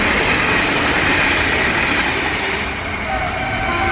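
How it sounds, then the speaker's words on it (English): A train at a station rumbles loud and close, a dense steady roar of wheels and carriages with no breaks. "It's train."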